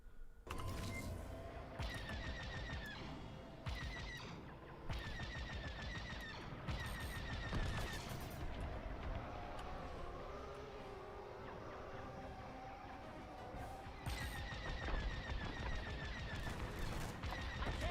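Sci-fi space battle gunfire in a video game as fighters strafe station turrets, dense and continuous with repeated blaster bursts and explosions layered over a constant roar of engines and music.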